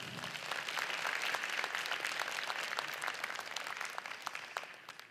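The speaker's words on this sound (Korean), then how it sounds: "큰 박수 부탁드리겠습니다" An audience at a Korean regional policy forum applauds after a provincial governor's presentation, a steady crowd of hand claps at moderate distance that carries on for several seconds and starts to thin at the end.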